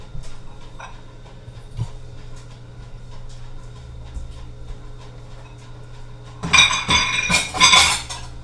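Chocolate chip cookie dough portions set onto a baking pan, heard as a burst of metallic clinks and scrapes of utensil against pan near the end, after a quieter stretch of faint kitchen handling noise.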